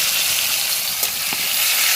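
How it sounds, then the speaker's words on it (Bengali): Thick-cut pumpkin pieces fry alongside browned potatoes in a pan, giving a steady, loud, close sizzle with a couple of soft stirring scrapes. "এই যে এর মধ্যে এবারে কুমড়োটা দিয়ে দিলাম, কুমড়োটা ভেজে নিয়ে যাবে।"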